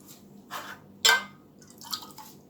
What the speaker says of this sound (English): So I just put a little water in the tin, like about a tablespoon or 2 of water.